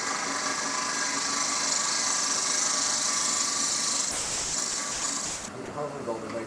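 Woodturning lathe with a tool cutting a spalted wood blank, a steady broadband hissing, whirring cut that runs loud and continuous before easing and changing texture near the end as the passes finish.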